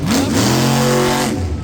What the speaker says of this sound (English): Wow, a louder motor it sounds like.